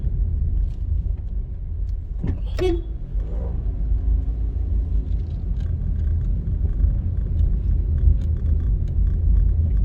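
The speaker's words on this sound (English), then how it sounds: "So basically we'll be just driving around the community." Steady low rumble of a car driving through the streets of Duhaney Park in Kingston, Jamaica, with a brief rising whine or horn-like tone near the start and faint clicks over the continuous road noise.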